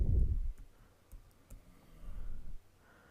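Soft, scattered key clicks from a computer keyboard as a login password is entered, faint and close with uneven spacing after a brief low thump.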